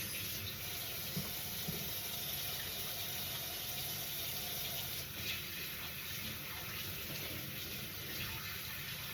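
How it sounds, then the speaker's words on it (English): Tap water runs steadily into a kitchen sink as hands are washed before handling raw meat for a bacon brunch, a continuous even hiss and splash at moderate distance with no talk over it. "wash my hands first."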